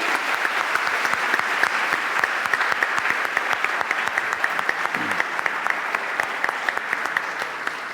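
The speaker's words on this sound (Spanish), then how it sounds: "un fuerte aplauso para Nacho" A live audience at a talk on ancient Egypt gives steady, dense applause for the Egyptologist Nacho Ares. The claps are even and sustained throughout, with a faint murmur beneath them.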